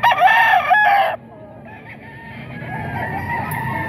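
A rooster crows loudly and close by for about a second, then the air settles to quieter background noise with faint distant sounds.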